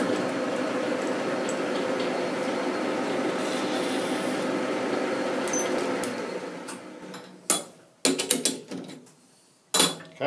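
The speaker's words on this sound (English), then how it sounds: "We'll deburr that." Machined metal lathe tailstock part being deburred, a steady close rasping, rubbing scrape for about six seconds that then stops, followed by a few sharp handling clunks and taps.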